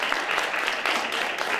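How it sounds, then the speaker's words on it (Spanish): A brief, loud burst of clapping from a crowd at a talk on applied theatre and culture, honoring an actor, dense and steady with no voices over it. "Y un aplauso para él"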